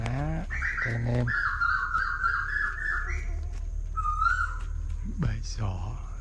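A hunter out in rainy-season fields mimics a coucal's hooting call by voice to lure the birds, with repeated whistled and hooted notes over constant outdoor background noise.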